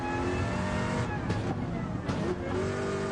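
A race car in Gran Turismo 7 with a loud, steady engine drone that holds at high revs and dips briefly twice, maybe at gear changes, then rises again.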